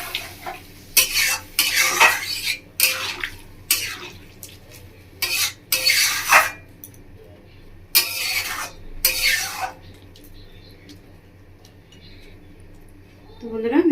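Water poured into a pan of fish curry with mustard paste and stirred, bursts of loud stirring and pan clatter separated by quiet gaps, with a voice speaking near the end.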